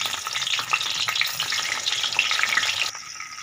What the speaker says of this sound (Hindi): अब इसके अंदर इनको हम फ्राई करेंगे।